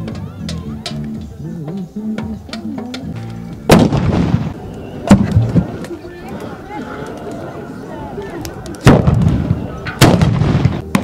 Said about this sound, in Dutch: Naast de gebruikelijke karbitbussen was er een speciaal gebouwd kanon opgesteld voor een superknal.